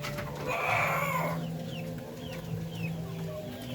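Native chickens cluck and chirp nearby in a steady, busy flock chorus, with a louder burst of calls early on and then lighter scattered clucks.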